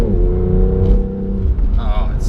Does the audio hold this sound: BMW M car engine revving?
yes